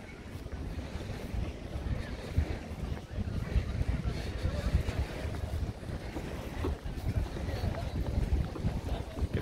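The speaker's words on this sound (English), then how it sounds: "you can hear the waves against the shore." Water lapping against the harbour shore by the Oslo Opera House in Bjørvika, a continuous churning rush mixed with heavy wind buffeting the microphone, steady and fairly close with no clear talk.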